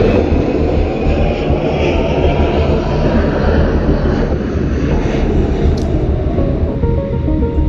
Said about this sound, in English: That sounds like some aircraft.